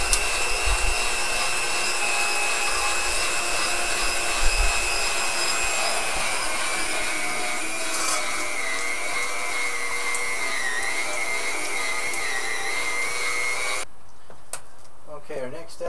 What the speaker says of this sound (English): I'm going to grind my fat with the smallest plate that I have for my grinder